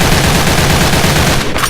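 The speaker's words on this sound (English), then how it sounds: "If I'm going to be shooting this in full without any control" Full-auto fire from an AK103 rifle in the game Special Force 2, a rapid, evenly spaced burst of loud close shots that runs without a break and cuts off at the end.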